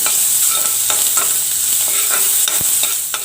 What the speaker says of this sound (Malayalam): ഞാൻ ഈ ചുവന്നുള്ളി കറിവേപ്പിലയും കൂടി ഇടുകയാണ്.